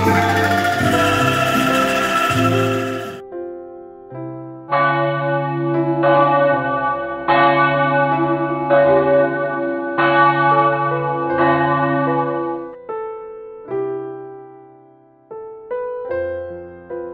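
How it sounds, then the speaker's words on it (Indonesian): Church bells ring out in a repeated melodic peal, loud and sustained, with struck tones overlapping and decaying between strokes, following a brief burst of other loud sound at the start. "suara lonceng mulai terdengar ke seluruh penjuru dunia"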